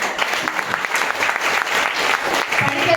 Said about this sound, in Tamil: பழனி அம்மா மேடம்க்கு ஒரு பாராட்டு கொடுங்களேன்